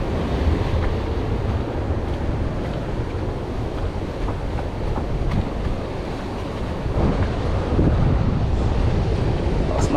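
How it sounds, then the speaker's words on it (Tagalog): High ocean waves crash and surge under strong wind, a constant loud roar with heavy rumble and wind buffeting the microphone throughout. "Taas ng alon dito."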